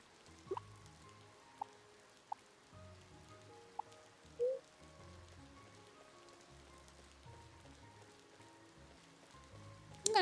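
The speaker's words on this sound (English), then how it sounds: "It's raining, so I'm feeling like maybe today would be like a better day for fishing because it's raining." Gentle rain falling in a quiet outdoor scene of the video game Ova Magica, a soft steady patter with a few isolated drips and taps, low and continuous throughout.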